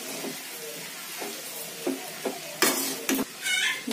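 Millet noodles being stirred and tossed in a pan, with scattered scraping and clattering strokes standing out against a low sizzle that stays steady throughout.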